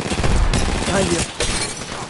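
Rapid gunfire rattles through an online shooter match, loud bursts of shots dense and close, with a voice talking over the shooting.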